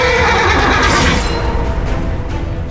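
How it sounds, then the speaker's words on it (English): A war horse in the medieval battle game Chivalry 2 lets out a loud, close neigh that rises and trails into a whinny over a constant din of battlefield noise. "Horses are huge war beasts that will turn the tide of battle"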